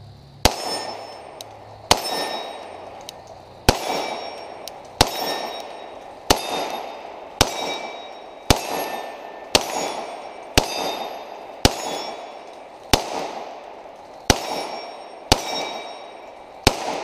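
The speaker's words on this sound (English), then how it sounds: "Running some miscellaneous ammo through here, some steel stuff, some brass stuff, and we'll see if we have any functional issues with it while we're shooting." A Beretta 92 pistol fires mixed steel-cased and brass-cased ammunition, about a dozen sharp, loud shots spaced evenly roughly a second and a half apart, each ringing out briefly, with no talking.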